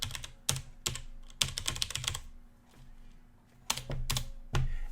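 Typing a Linux command on a computer keyboard, with bursts of crisp key clicks in quick runs separated by short pauses, close and clear with no talking.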